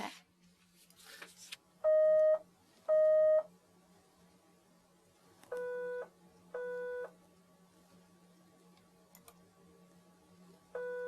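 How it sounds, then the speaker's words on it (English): Test beeps played through a cochlear implant come as pure tones in pairs, two louder pairs and then two softer ones, over a faint steady hum in a quiet room with no talking. "Two beeps."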